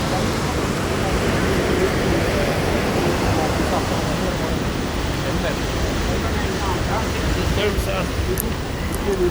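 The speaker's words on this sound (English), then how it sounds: "I think you already heard the sound of the like water flow." Athabasca Falls in Jasper National Park, a loud, steady roar of rushing water close by that fills the whole stretch without letup, while voices murmur faintly underneath.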